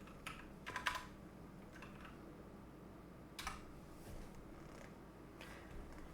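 Keys tapped on a computer keyboard to enter commands in Fortnite, appearing as a few short bursts of clicks over a faint background hum, fairly quiet and with no talking.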